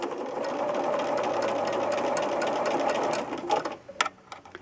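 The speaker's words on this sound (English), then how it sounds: "put it on the sewing machine" A sewing machine stitches fabric for a quilt in a rapid, steady whirring chatter of needle strokes that runs for several seconds, then stops, leaving a few scattered clicks and handling noises.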